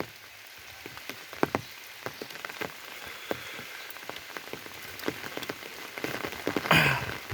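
Steady rain pattering on a surface by a rice field at harvest, with scattered sharper drops and a brief louder splash near the end; no voices.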